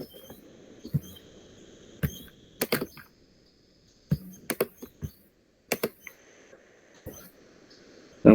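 Typing on a computer keyboard to enter a Linux command while setting up a VPN server, heard as irregular clusters of close keystrokes separated by short pauses.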